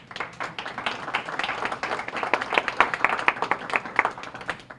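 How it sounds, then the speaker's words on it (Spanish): Steady crowd applause at a Dominican diaspora anniversary event in New York, dense overlapping claps building slightly in intensity over several seconds and heard without talk. "Aplauso para nosotros."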